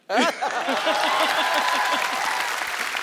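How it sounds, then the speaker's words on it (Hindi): Studio audience applause on a comedy talk show, a burst of loud clapping starting abruptly and holding steady for about three seconds while a voice calls out over it. "तेरी ठोको ताली"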